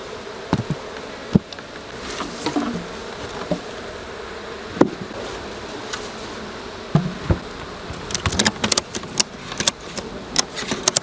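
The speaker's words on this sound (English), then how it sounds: "So a lot of bees at the front, venting." Bees buzz and drone around the entrance of a hive that may lack a queen, many of them fanning at the front, with individual insects zipping close past and loud near buzzes crowding in toward the end.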